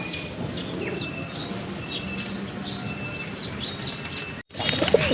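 Fancy pigeons in a loft, with soft repeated wing flutters, faint chirps and coos over a steady room hum, then a brief clatter near the end.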